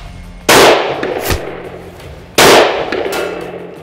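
Two sharp gunshots ring out about two seconds apart during a barrel-length velocity test. Each is loud and close, with a cracking report followed by a ringing decay and a faint metallic echo.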